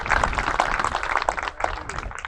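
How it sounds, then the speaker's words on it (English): A crowd claps for an honored guest at an outdoor groundbreaking ceremony for Didar S. Bains Park, a dense round of applause that runs steadily throughout and tapers slightly near the end. "let's give him a round of applause"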